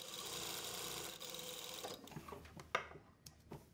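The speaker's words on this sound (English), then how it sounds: "Again with the needle in, lift the foot, turn the fabric and sew the other side." Sewing machine stitching fabric for churidar pants, a fast, steady whirring run of stitches that slows and stops, followed by a few soft clicks and handling sounds, close and fairly quiet.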